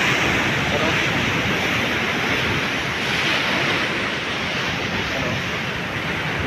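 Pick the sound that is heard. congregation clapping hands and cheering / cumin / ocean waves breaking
ocean waves breaking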